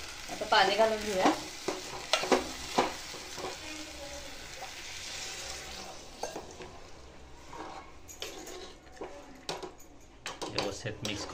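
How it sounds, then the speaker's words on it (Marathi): Masala rice stirred in a pot just after water has been added, with close wet scraping and sloshing strokes that come strongest at the start, then quieter clinks and stirring under faint background voices. "व्यवस्थित मिक्स करून आता पाणी घालून घेतलंय"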